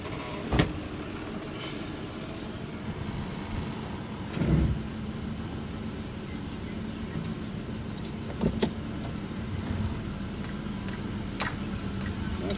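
Isuzu Trooper running in four-wheel drive high range, a low steady engine hum with a few scattered clicks and soft thumps over it, fairly quiet and close.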